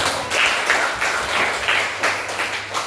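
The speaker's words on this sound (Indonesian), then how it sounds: "Ya, kasih aplaus dulu." A class of students claps together, several seconds of steady, rhythmic applause with a slightly pulsing beat from a group close by.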